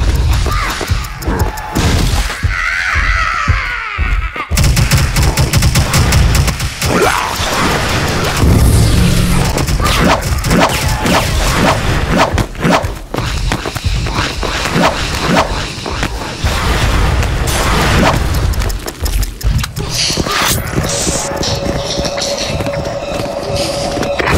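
Grenade explosions and gunfire in the video game SF Rush, a dense, loud, continuous barrage of booms, crashes and rapid shots that overlap throughout with hardly a pause.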